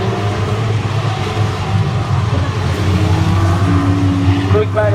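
Banger racing cars roar off the start at a Great Yarmouth bonfire night gala meeting, a loud, dense wall of engine noise from a pack of old stock cars, with an announcer talking over it throughout.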